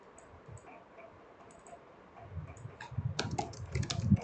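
Someone types on a computer keyboard in a quiet room: a few soft, sparse taps at first, then a quicker burst of louder clicking keystrokes near the end.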